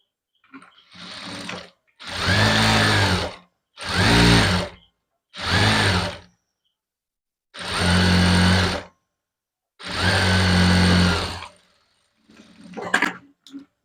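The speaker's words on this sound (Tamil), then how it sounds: "இதுக்கப்புறம் ஒரு 1/4 இன்ச்சு மேலே வந்து தையல் போட்டுக்கலாம்." A sewing machine topstitches a co-ord set in six bursts of steady, loud whirring, each lasting one to two seconds and separated by short silences, followed by a few faint handling clicks.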